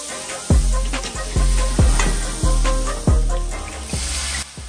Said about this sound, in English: I'm just sauteing everything, getting it nice and wilted, getting those flavors released out of the onions and the garlic and everything